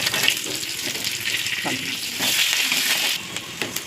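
Fenugreek seeds and vadagam fry in hot oil, making a close, loud, steady sizzle and crackle with a few light clicks across the short stretch.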